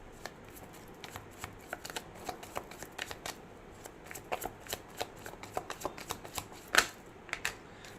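Tarot cards shuffled and drawn close by, a steady run of soft papery riffles and flicks with sharper snaps now and then, quiet and alone without any voice.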